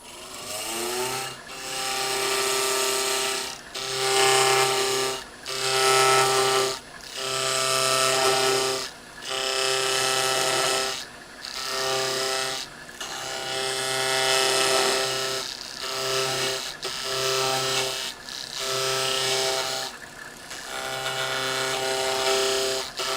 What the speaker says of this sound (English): let me take one more pass with this negative rake scraper